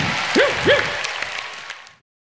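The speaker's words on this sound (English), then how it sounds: "big clap for Wags, everybody" A brief burst of audience clapping for Wags the dog on a children's TV show, about two seconds long with a couple of rising whoop-like vocal calls over it before it cuts off abruptly.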